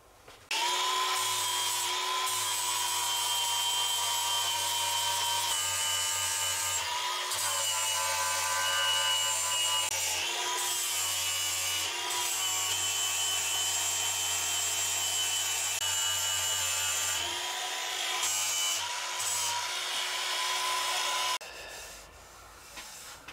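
Power grinder stripping the hood of a 1971 Toyota Celica TA22 down to bare metal, a loud, continuous high-pitched whine with brief dips in pitch as the tool bears down, before it stops near the end.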